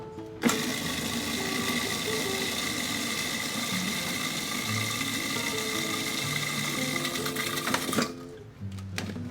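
Blender pureeing roasted garlic, green chili, herbs and olive oil, a loud steady motor whir running continuously for several seconds before cutting off near the end.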